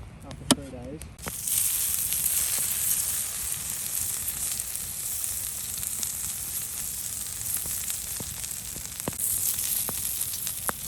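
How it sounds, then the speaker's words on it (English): A fry-up sizzles steadily in a pan over a campfire outdoors on a rainy camping trip, a constant close hiss with small pops and crackles throughout. "We're gonna have a epic fry up now that we've finally got our fire going."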